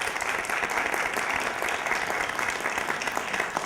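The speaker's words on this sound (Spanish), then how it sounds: "les pediré un aplauso para Francisca Pau, por favor." An audience at a talk on abortion and human rights applauds steadily, a dense, even wash of clapping from many hands that holds at full strength for several seconds with no voices over it.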